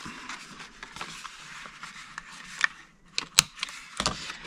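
Corner rounder punch rounding the corners of a paper flap on a treat box, a few quiet crisp clicks and snaps, close up, among soft paper handling rustles.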